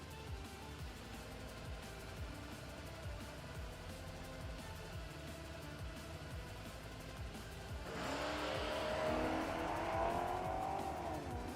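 A Corvette at a drag strip, its engine launching suddenly into a loud, rising roar as it tears away after a stretch of distant idling engines.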